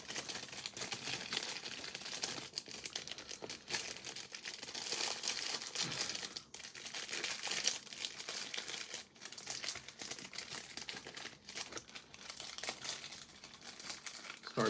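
Craft supplies in plastic and paper packaging are handled, making close, continuous crinkling and rustling with irregular sharp crackles and brief pauses, and no speech over it.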